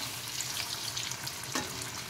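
Katvada fritters fry in oil in a kadhai after being flipped, producing a steady close bubbling sizzle with a faint scrape of stirring, and nobody speaks.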